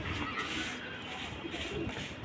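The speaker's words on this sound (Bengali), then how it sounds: "আমরা কবুতারগুলো দেখাইতেছি" Pigeons coo on a pigeon farm, a soft, continuous murmur of calls close by against a steady background hum.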